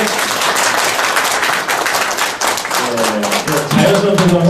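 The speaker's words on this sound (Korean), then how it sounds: "예, 박수 치셔야죠." Audience clapping at a Korean taekwondo ceremony during a group photo session, a steady dense patter of many hands filling the room, with a voice speaking over it near the end.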